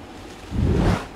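Water in the Prince of Persia: The Sands of Time video game, heard as a soft, steady wash that swells into a louder, broad rush before easing off, with no talking.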